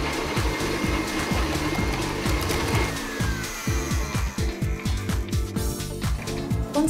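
An electric mixer creams butter and sugar for a lemon drizzle cake, whirring steadily up close with a rhythmic churning pulse that continues throughout, loud and without talk.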